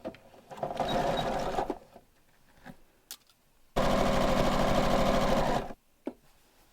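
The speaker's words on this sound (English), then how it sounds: "So I'm just going to sew a few more inches and stop there" Sewing machine stitching the waistband of pull-on pants, running in two steady bursts of about two seconds each, separated by a quiet pause with faint handling clicks.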